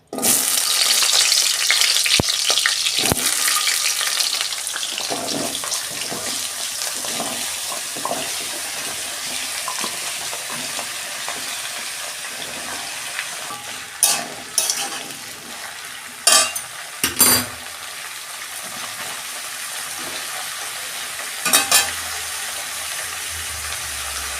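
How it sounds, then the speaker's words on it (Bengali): Vegetables for a Bengali vegetarian curry frying in hot oil in a wok (kadai), a loud, steady sizzle filling the whole stretch, with a few sharp clanks of a utensil against the pan near the end. "তেল গরম হয়ে গেছে, আমি সবজিগুলো সব দিয়ে দিচ্ছি।"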